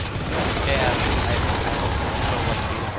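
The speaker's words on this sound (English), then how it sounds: "Look how much we have to shoot at them, dude." Gunfire in the Natural Selection 2 game, a sustained dense barrage of rapid shots blending into a constant roar for the whole stretch, loud and near, with no speech over it.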